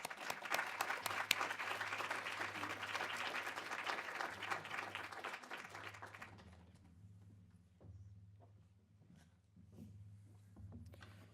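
An audience welcomes two speakers, Yannick and Chloë, to Sika with sustained applause and clapping that fills the room for about six seconds, then fades to scattered claps and quiet over a low hum.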